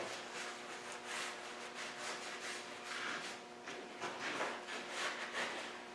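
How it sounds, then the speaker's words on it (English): A rag wet with acetone rubbed over a painted engine part during an engine rebuild, soft repeated rubbing strokes in quick bursts, close but quiet, with no voices. "We'll use a bit of acetone to clean it up."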